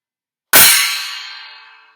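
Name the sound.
cymbal struck and ringing, echoing as it dies away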